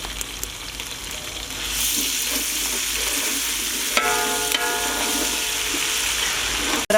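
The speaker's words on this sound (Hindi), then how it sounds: "खड़े मसालों को भी थोड़ी देर के लिए भून लेंगे।" Whole spices fry in a pot for beef pulao with a steady, fairly loud sizzle, while a spoon stirs and scrapes the pot, giving a few sharp clinks partway through.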